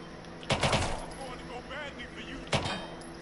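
Two sharp gunshot bursts from the video game Watch Dogs 2, about two seconds apart, over faint background voices and game ambience.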